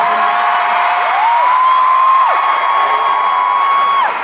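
Concert crowd in Liverpool, a huge stadium audience cheering, with sustained high screams and whoops swelling loudly and continuously.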